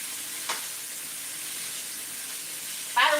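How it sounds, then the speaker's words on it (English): Oil poured over noodles gives a soft, steady sizzle with a brief splash early on and a sharper crackle at the end, close and moderately loud, with no talking. "put my oil through the noodles"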